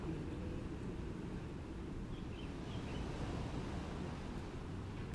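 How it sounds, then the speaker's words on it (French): Ocean waves behind a person at the shore, a soft, steady wash of surf and wind, faint and continuous with no distinct breaks. "Avec le bruit des vagues en plus derrière moi"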